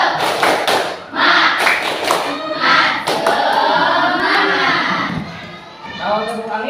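Group of pupils in a classroom doing a rhythmic clap-and-chant routine, sharp patterned claps mixed with voices chanting and shouting together, loud and close, with talk woven through.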